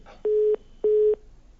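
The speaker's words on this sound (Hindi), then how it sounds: "भारू राम जी का फोन नहीं लग पा रहा है।" Telephone busy tone from a call that fails to connect, two steady, evenly spaced beeps of equal length, clear and alone.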